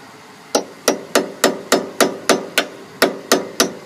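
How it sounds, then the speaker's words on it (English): Hammer blows on a steel pin at a Honda Civic's rear wheel bearing, a dozen sharp metallic strikes in a steady, evenly spaced rhythm, close and loud with no talking. "I'm just gonna use hammer and pin."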